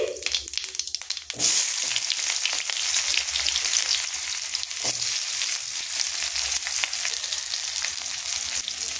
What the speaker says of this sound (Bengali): এবার এখানে দিয়ে দেবো পেঁয়াজ কুচি